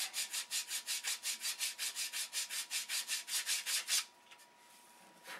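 Stacked balsa-style wooden wing ribs for a model airplane being stack-sanded as a block, giving about fifteen steady rhythmic rubbing strokes at close range before the scraping stops, leaving quiet room tone.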